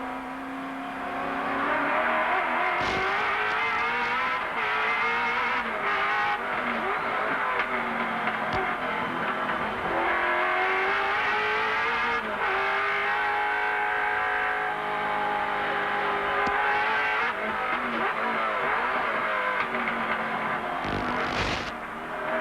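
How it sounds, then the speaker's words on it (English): Race engines of Peter Brock's Holden Commodore chasing the Benson and Hedges BMW at the 1991 Wellington street race, heard from a front-bumper mount: loud, continuous roaring with revs rising and falling through gear changes, no talking. "Travelling in the front bumper of Peter Brock's Commodore. Behind the Benson and Hedges BMW, driven by the Queenslander Tony Longhurst."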